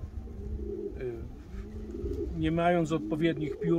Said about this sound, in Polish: bo stoimy tutaj koło gołębi młodych